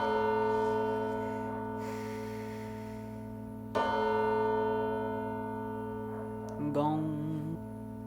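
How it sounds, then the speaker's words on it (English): Gong in a track, two resonant, sustained bell-like strikes ringing out over dense music, with a voice speaking briefly near the end. "Gong."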